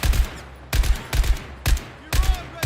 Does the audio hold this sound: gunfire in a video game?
yes